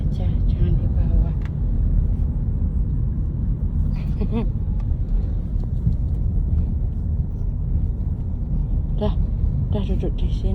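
A car drives along with a cat riding inside the cabin, its steady low road rumble and engine drone running continuously while people talk over it and a few brief high cat-like cries come through.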